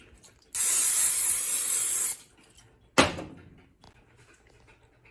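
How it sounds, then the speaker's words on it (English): A steady hiss of Pam cooking spray onto a skillet lasts about a second and a half, followed by a short clatter, like a can set down on a surface. "spray the skillet with Pam"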